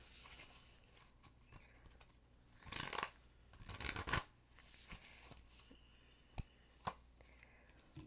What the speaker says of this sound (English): let's give this card a nice big shuffle